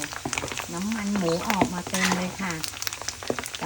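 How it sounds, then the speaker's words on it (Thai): Pork skin fries in very hot oil with a continuous crackling sizzle, while a person talks over it. "เวลาทอดนี่ไม่กระเด็นเลยนะคะเพื่อน ๆ ทอดง่ายมาก"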